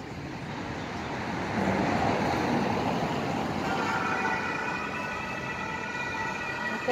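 A police car siren wails along a street in Bologna, a steady rising and falling tone heard at middle distance over continuous city traffic noise.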